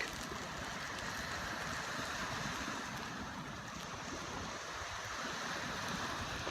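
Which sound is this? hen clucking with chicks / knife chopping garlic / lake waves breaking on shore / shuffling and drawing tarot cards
lake waves breaking on shore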